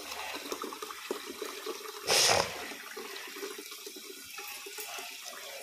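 Hot water running from a household tap: a soft, steady stream under faint room noise, with a brief louder gush in the middle.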